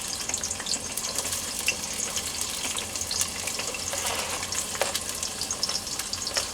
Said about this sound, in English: We can hear that the oil is ready, and right now we are adding the onions.